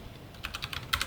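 Quick, light keystrokes on a computer keyboard, a short run of close clicks with a sparse start that grows into a faster cluster.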